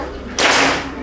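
A single sharp, loud crack from a PCP air rifle fired without a silencer using a Barracuda Match pellet, a sudden close report that decays over about half a second with no talk.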